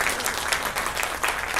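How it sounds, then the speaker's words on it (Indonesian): Steady applause from a seminar audience, a dense patter of many hands clapping at moderate volume throughout, with no one talking over it. "sekali lagi berikan tepuk tangan untuk Pak Suprato."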